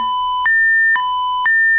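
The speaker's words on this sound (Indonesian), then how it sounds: "Dan alarm pun akan berbunyi" Control software for a seawater-to-salt processing machine sounds a tank level alarm: steady two-tone electronic beeps repeat in a regular rhythm, clear and loud with nothing else heard.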